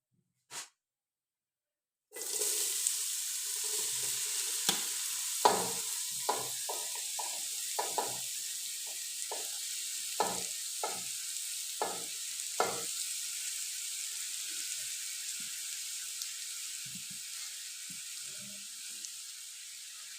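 Grated carrots sizzle steadily in hot cooking oil with cardamom powder for gajar ka halwa, a continuous close frying hiss broken by a dozen or so soft scraping stirs of a spoon.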